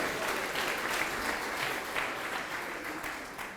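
Church congregation applauding during a sermon, a steady burst of clapping from a crowd that holds at an even level and then slowly tapers off.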